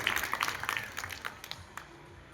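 Students at a school gathering applaud to welcome their teachers, a burst of scattered hand clapping that is fairly faint and fades away over a couple of seconds.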